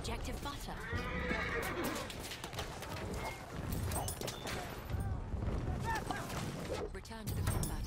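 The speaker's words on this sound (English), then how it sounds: "Horse v horse." Horses in the video game Battlefield 1 neigh and whinny repeatedly over galloping hoof clatter and battle noise, with a player talking and laughing over the action.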